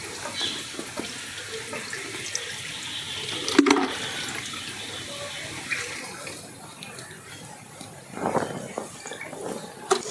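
Water flows steadily at the Uma Maheshwaram shrine in Srisailam, pouring in beside a Shiva lingam. It makes a continuous close rushing wash with a brief splashy burst near the middle.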